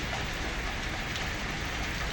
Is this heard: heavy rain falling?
yes